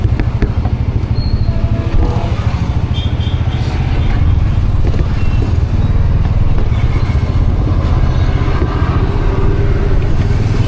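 Auto rickshaw engine on a Chennai driving-school vehicle, a loud, constant close-up rattling idle with a steady low-pitched chug and some clatter, running throughout with no clear talk.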